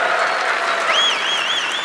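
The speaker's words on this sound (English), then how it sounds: "it's easy for you to clap" Sustained audience applause fills a large Microsoft Ignite keynote hall, a steady dense clatter of many hands clapping at even volume with no one speaking over it.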